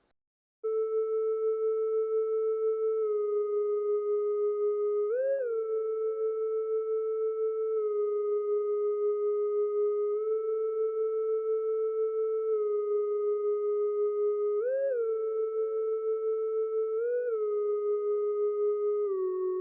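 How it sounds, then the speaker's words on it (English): A smooth, sustained synth tone with a pure, theremin-like timbre, holding steady notes with occasional gliding pitch bends and light vibrato, playing alone. "I use the soft theremin preset."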